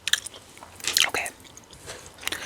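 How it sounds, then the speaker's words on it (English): Extra sweet watermelon flavored gum chewed close to the microphone, with wet smacking and squishy mouth sounds in a few quick clusters, soft but intimate. "I also will be chewing a piece of gum on this video."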